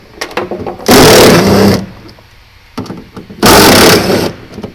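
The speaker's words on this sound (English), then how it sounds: "I'm going to go ahead and just take these 3 bolts off" Three bolts come off a Mazda Miata dash in two loud, close bursts of a power driver, each about a second long, with quieter clicks and handling between them.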